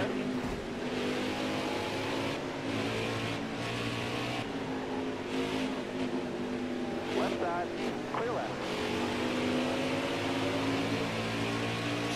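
NASCAR stock cars in NASCAR Heat 4 at Watkins Glen, a steady loud engine drone with rising and falling tones as cars pass, continuous throughout, with a person talking over it.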